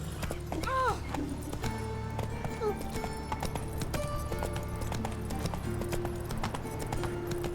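Horse hooves clip-clop in a steady rhythm, with a short whinny early on and voices talking over the trotting.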